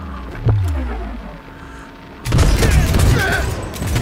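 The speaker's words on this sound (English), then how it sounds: "Shots fired!" Gunfire erupts in the Cyberpunk 2077 heist at Arasaka, a single loud shot early, then after a quieter stretch a dense burst of shots with game sounds and voices layered over it.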